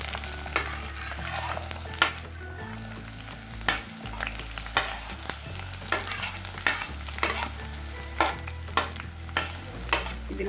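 Onions fry in oil in a clay pot, sizzling continuously up close, with repeated scraping stirs of a spoon against the pot at irregular intervals and no talking.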